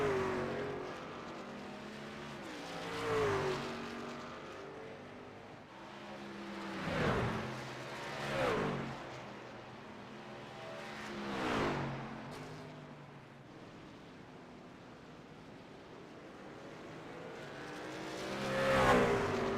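Racing trucks' engines in a sim-racing truck series event at the Charlotte Roval road course: several trucks swell and fade as they pass at intervals, their engines revving through the chicane at moderate volume.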